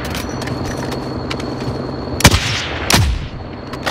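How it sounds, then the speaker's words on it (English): Two heavy, booming AK rifle reports outside a prison in the video game Call of Duty Warzone, loud and close, spaced under a second apart above a constant low ambient hum. "Shooting him outside. With the AK."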